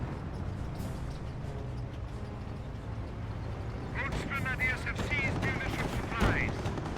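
Gunfire and explosions from the Company of Heroes video game: scattered shots in the first seconds, then a louder burst of rapid fire and blasts, all under an ongoing commentary voice.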